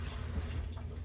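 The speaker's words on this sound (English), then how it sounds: "turn the damn water on." Steady rush of water running from a kitchen tap, filling a pot for cooking goulash sauce; continuous and close, with a low rumbling body throughout and no talking.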